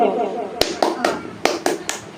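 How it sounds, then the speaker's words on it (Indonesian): Group of people doing a rhythmic 'tepuk semangat' clap at a home gathering, six sharp claps in a quick patterned sequence close by, with a voice speaking beneath. "Jadi Bu, kalau saya bilang tepuk semangat, begini jawabnya"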